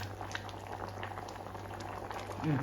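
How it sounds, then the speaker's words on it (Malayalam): Jackfruit curry with coconut simmers in a pot, giving a steady bubbling boil that runs through the whole stretch, with a slightly louder burst of bubbles near the end. "നാളികേരം ഒഴിച്ചിട്ട് നല്ലപോലെ തിളച്ച് കഴിഞ്ഞു"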